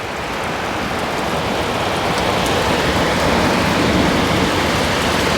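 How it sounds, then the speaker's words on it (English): Heavy rain pours down during a storm over outdoor garden minibeds, a dense, steady hiss that fills the whole stretch without pause. "We got some rain, which we needed, and that's good."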